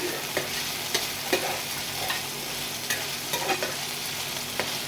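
Potatoes and chickpeas fry with salt and turmeric in a pan, a constant sizzle broken by repeated scraping stirs and light clicks of the spatula every second or so, close by.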